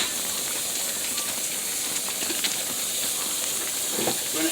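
Hot water poured into a pan of homemade gravy for smothered cube steaks, giving a steady broad sizzling hiss with faint crackles and a few bubbling pops near the end, close and continuous.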